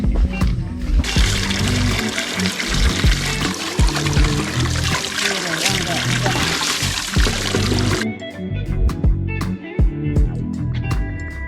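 Water being poured while collecting water outdoors in Capiz, Philippines, a loud continuous gushing pour that cuts off near the end, leaving dripping and small splashes.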